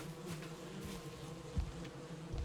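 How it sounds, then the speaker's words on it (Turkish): A beehive in the video game Valheim gives a faint, steady insect buzz under quiet game ambience, with a couple of soft low thumps. "Bakın burada da şey var. Kovan var. Sesi geliyor."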